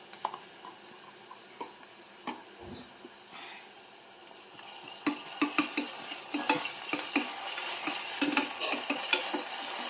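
Onions fry with ginger garlic paste in a pan, a soft sizzle beneath repeated stirring scrapes and clinks of a spoon that grow busier and more rhythmic in the second half.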